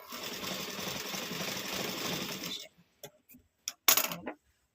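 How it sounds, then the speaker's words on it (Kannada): A sewing machine stitches a blouse side seam with a fast, steady whirring run for about two and a half seconds, then stops, followed by a few faint clicks and a short, louder clatter near the end. "ಮತ್ತೆ ಈ ಕಡೆ ಸ್ಟಿಚ್ ಮಾಡ್ಕೊಳ್ಳೋಣ"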